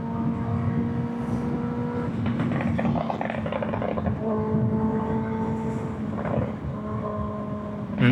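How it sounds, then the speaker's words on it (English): Rush hour road traffic recorded from a moving motorcycle, with a steady engine drone, harmonic whine and passing vehicles filling the whole stretch, loud and continuous with no talking. "And now we got rush hour traffic."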